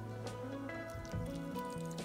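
Near-boiling water is poured onto crushed biscuit to make a fishing bait for crucian carp and carp, giving a steady, close liquid pour with soft wet squishing and dripping over a low background hum.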